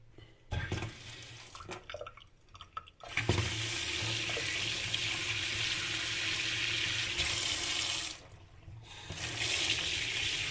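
Water gushing from a single lever mixer tap into a sink, a loud steady rush close by that stops briefly twice and resumes, with a faint clunk as the lever turns.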